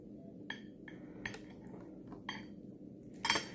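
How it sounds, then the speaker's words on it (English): Soft metallic clinks and rustles repeat every half second or so as bagged silverware slides on a hospital bed, ending in a brighter jingle. "When the silverware comes, it's in this little baggie. That's what you heard."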